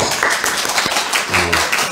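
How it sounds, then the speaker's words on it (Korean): A church congregation claps for a member returning after many years at a Sunday morning service: a dense, steady patter of many hands, close and fairly loud, lasting about two seconds. "박수"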